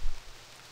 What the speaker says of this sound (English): It's dark and rainy.